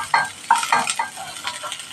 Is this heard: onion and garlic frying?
yes